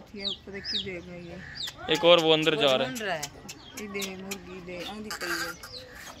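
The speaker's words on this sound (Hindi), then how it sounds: "मुर्गी वो है बाकी चूज़ा एक साथ में लेके फिर रही है" A hen clucks while walking about with her chicks in a village yard, with repeated soft clucking interleaved with people talking nearby.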